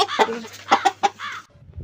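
A chicken clucking close by, a handful of short, sharp clucks in quick succession before falling quiet.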